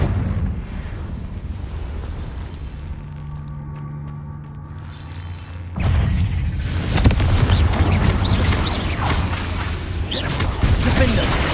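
Confringo fire spell explosions in Hogwarts Legacy during a boss fight, a loud booming burst that erupts midway and rumbles on amid heavy battle noise.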